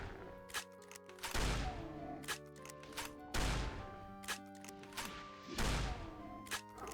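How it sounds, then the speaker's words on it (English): A hunting shotgun fires in the Doom mod Innawoods: three heavy, booming blasts spaced about two seconds apart, each followed by a short decay, with sustained musical tones playing underneath. "Yeah, it's just a hunting shotgun."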